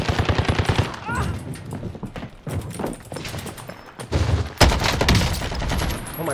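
Rapid AK rifle fire in Warzone Rebirth, loud close bursts of automatic shots with short gaps between them, and voices talking over the shooting.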